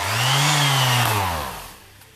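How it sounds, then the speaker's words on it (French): An electric sander's motor whines loudly, then winds down in falling pitch over about a second and a half. It fades to near silence with a faint tail, heard alone up close. "vous en avez marre de rester comme ça pendant 15 ans en attendant que votre ponceuse s'arrête"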